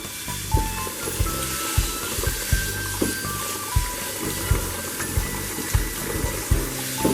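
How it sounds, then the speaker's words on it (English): Water from a garden hose pipe drenches microgreen trays in a garage farm, a close, steady spray with a rhythmic pulsing pattern of louder splashes roughly every half second, and no talk. "get my hose pipe, give them a good drenching"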